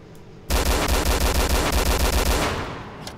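Automatic gunfire in the video game DayZ Overpoch: after a moment of quiet, one loud, close, rapid burst of evenly spaced shots runs for about two seconds, then fades off.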